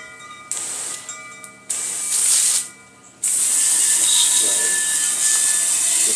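Pressure-washer water spray rinsing a car wheel after a wheel cleaner is applied, a loud close broadband hiss that starts and stops in short bursts, then runs on continuously.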